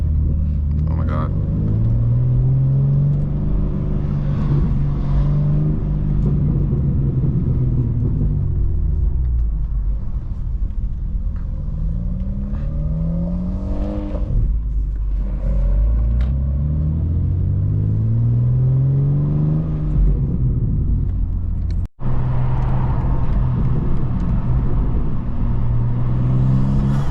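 A 600 hp BMW G87 M2 with a manual gearbox driven at night, its engine rumbling up and down through repeated rising revs and gear changes from inside the cabin, with a voice talking over it.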